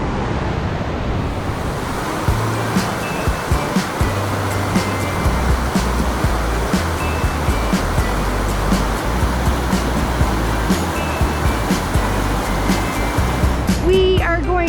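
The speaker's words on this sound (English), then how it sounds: "These falls are moving so fast, it's crazy." A fast-flowing waterfall near Banff, heavy steady rush of falling water close by, with wind buffeting the microphone.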